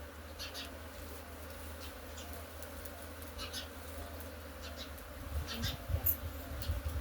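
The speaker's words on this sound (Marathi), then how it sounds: "किती मधमाशी आहे दिसतंय की तुम्हाला" A big swarm of honeybees buzzes steadily outdoors, a dense continuous drone close by with no talking, growing slightly louder and busier toward the end.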